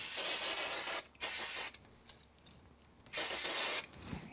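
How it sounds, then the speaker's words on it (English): Spray glue aerosol spritzed onto a handmade card, two long loud hissing bursts with a quieter gap between, ending with a soft tap. "So I'm gonna put this on with a little bit of spray glue."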